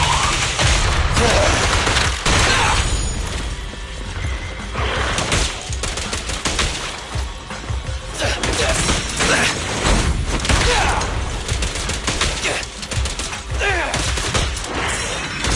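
Rapid, dense video game gunfire from Zenless Zone Zero, loud continuous bursts with mechanical clicks and impacts, with occasional voices mixed into the action.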